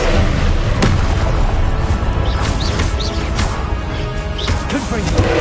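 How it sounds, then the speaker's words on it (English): In the game Hogwarts Legacy, an Expelliarmus disarming spell lands as loud booming impacts and crashes in the middle of combat noise, with a sharp hit near the start and scattered thuds after it. "Expelliarmus."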